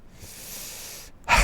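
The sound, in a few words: hiccup or sneeze-like sound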